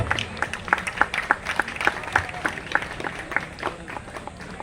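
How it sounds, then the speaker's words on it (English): Students applauding at a silver jubilee celebration for a priest at a school, with distinct, fairly sparse rhythmic claps close by and a murmur of voices in the background. "Dear students, please give a huge round of applause."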